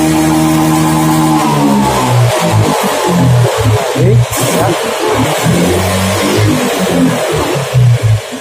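Revving engine of a Honda Beat FI scooter with a faulty CKP sensor, running rough and lacking power; the revs rise and fall unevenly in repeated surges, close and loud throughout.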